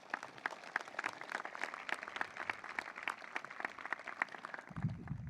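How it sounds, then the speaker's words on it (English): Audience applause at a university class induction ceremony: a faint, distant crowd clapping steadily for several seconds, with a voice starting at the very end. "Can we just give all those folks a round of applause?"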